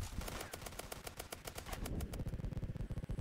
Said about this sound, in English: My turrets are so good at protecting me